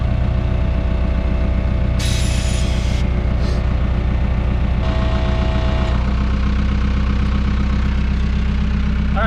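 An ExtremeAire Magnum M1161 off-road air compressor filling a truck's airbags: a steady, loud mechanical drone with a low hum that holds constant throughout, with short bursts of hiss.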